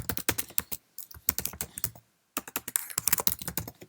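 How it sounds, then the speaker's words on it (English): Fast, irregular clatter of keys on a Mac computer keyboard, close and crisp in steady bursts with one short pause partway through, no voices. "Let's now go back into the email and type kind regards"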